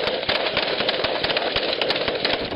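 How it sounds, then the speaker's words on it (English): Rapid bursts of gunfire aimed at a pirate skiff crackle continuously over a loud mechanical rumble, dense and close, with sharp repeated reports throughout. "a massive blast of gunfire"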